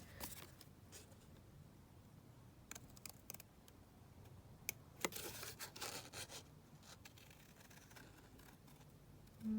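Paper being cut with scissors while crafting a junk journal page, heard as scattered close snips and rustles separated by quiet pauses, with a denser run of cutting in the middle and no talking.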